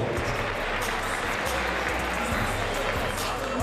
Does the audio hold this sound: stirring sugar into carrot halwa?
no